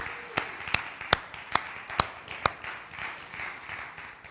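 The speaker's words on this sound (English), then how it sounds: "Let's give them another round of applause" A church congregation at a Sunday morning service gives a sparse round of applause, about seven distinct sharp claps spaced evenly, then a softer scattered patter fading out.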